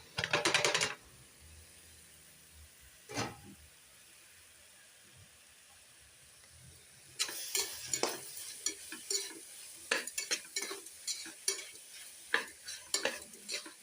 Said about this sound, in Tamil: சேர்த்து நல்லா வதக்கி விட்ருங்க